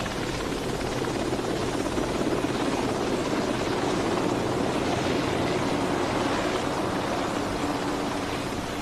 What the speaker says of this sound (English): The helicopter then climbs to several thousand feet above the task force.